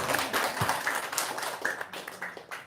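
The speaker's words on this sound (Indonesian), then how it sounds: "Nah, tepuk tangan dulu dong." A few people clap in short, irregular bursts of sharp hand claps at close range during a casual filming session.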